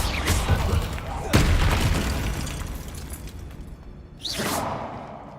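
Confringo explosive spell going off in Hogwarts Legacy, a loud booming blast with whooshing bursts, one strong impact followed by a rumbling tail and a later sweeping swoosh.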